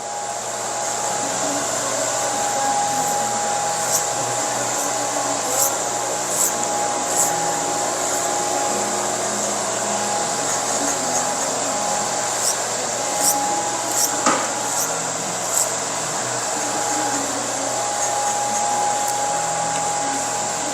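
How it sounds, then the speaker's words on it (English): Electric hair clippers buzz steadily and closely as they cut short men's hair, with a constant high whine throughout and faint clicks and light contact noises scattered over it. "When you're using the clipper, it's better to keep the shade of the clipper with the 45 degrees"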